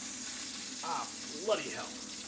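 Salmon sizzles and crackles steadily in a hot pan, close by, while a person briefly exclaims over the frying.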